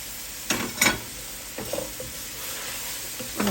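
Chicken for an Indian curry being stirred in a single pot with spices, soft sizzling frying under a few scraping stirs of a utensil against the pot, short bursts spaced apart over a low background hiss.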